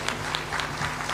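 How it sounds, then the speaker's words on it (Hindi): Audience clapping at a Hindu bhajan gathering in a village in Shivpuri district, a steady dense patter of many hands, moderately loud, with brief louder bursts throughout. "देखो ताली बजा दीजिए"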